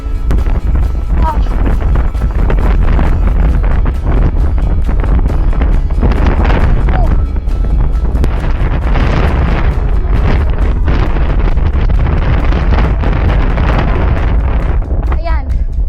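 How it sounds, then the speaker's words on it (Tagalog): Strong wind buffets the microphone during gravel cycling through open rice fields, a loud, constant roar with gusty surges, while riders talk over it. "Sobrang lakas ng hangin."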